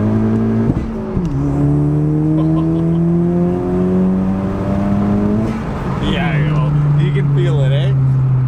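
A turbocharged 10th gen Honda Civic Si accelerates hard in second gear, its engine note rising loud and steady with a shift-like dip, then climbing again, with a whooshing turbo flutter and voices talking over it.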